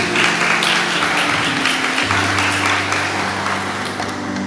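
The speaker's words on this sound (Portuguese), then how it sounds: "Pode aplaudir a palavra de Deus" Congregation applauding during a church service, a dense, sustained wash of clapping from a large room with a low hum underneath.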